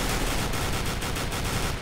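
Sustained automatic gunfire in Counter-Strike: Global Offensive, loud and close, with rapid evenly spaced shots running without a break.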